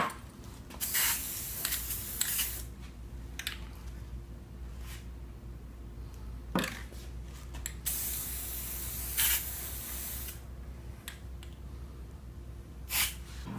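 Aerosol paint is sprayed inside a phone amplifier with one side taped off, giving several short, close hissing bursts spread over a steady low background hum.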